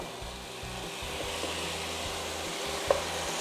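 Apples tipped into a sauté pan of melted butter and honey sizzle steadily up close while being stirred, with soft scraping knocks and one small clink, no talk.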